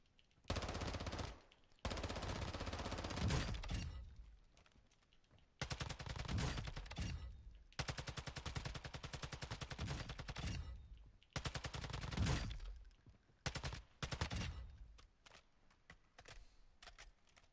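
Bursts of automatic gunfire during shooting practice in the video game DMZ, loud rattling volleys separated by brief pauses, with occasional single shots and clicks between them.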